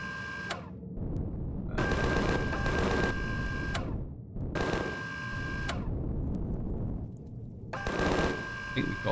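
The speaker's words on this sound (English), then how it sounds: "Suppression fire down." Automatic suppressing fire in the space survival game Empyrion Galactic Survival: repeated long bursts of rapid machine-gun shots separated by short pauses, loud and close.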